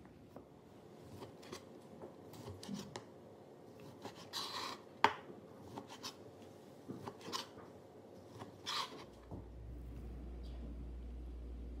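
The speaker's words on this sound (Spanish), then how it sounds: "Ya estamos picando nuestras salchichas." A knife chops sausages with quiet, irregular taps and scrapes on a board, with a low hum rising near the end.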